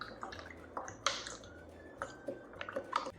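Apple peels, a spoonful of sugar and water get stirred in a jar, giving faint, soft wet squishes and small drippy clicks at an irregular pace, quiet and close.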